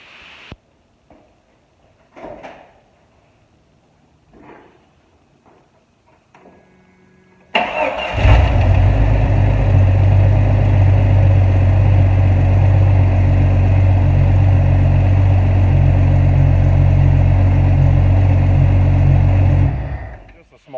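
After some quiet handling noises, a car engine cranks and roars to life, then settles into a loud, steady idle for several seconds before cutting off.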